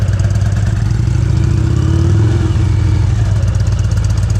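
A motorcycle engine holds a steady loaded throttle during slow-speed practice riding in Washington, a loud continuous low thrum with a slight rise in pitch midway, close and alone.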